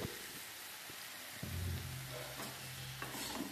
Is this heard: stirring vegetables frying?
yes